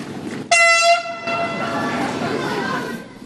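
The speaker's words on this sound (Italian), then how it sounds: "Il treno arriva in Vaticano a bordo centinaia di bambini" A Frecciarossa 1000 train pulls into the Vatican station, sounding a loud harmonic horn blast for about a second before rolling on with a steady rumble and background bustle.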